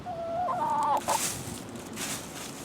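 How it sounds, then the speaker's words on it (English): A chicken clucks and warbles nearby in a short burst in a chicken pen, followed by softer rustling and faint outdoor background noise. "Just busy being chickens."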